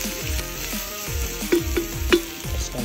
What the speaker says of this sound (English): garlic, mix of pepper, bay leaves to start cooking. It's nice and hot, that oil there now.